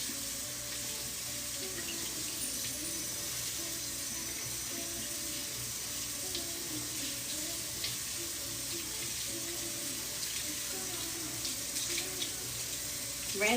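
Tie-dyed shirts being rinsed under running water from a tap, a steady unbroken rush of flowing, splashing water at moderate level throughout, with no talk.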